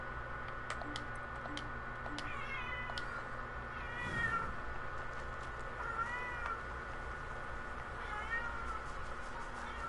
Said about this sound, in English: I'm sure you guys can hear my cat.